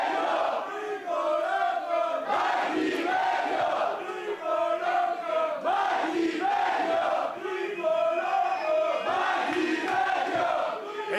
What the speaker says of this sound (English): you hear this crowd that has been so hot, so incredibly animated, so loud since the start of the night